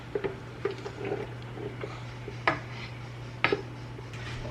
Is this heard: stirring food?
yes